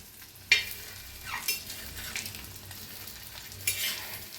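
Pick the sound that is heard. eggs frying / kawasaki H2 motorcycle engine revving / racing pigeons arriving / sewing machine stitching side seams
eggs frying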